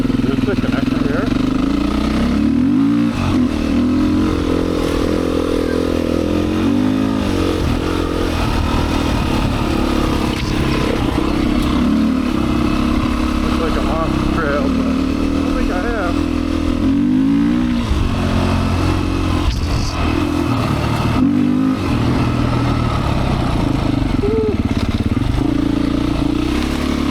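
A Beta 500 dirt bike engine drones continuously while riding a two-track trail, close and loud, its pitch rising and falling with the throttle and a voice speaking over it.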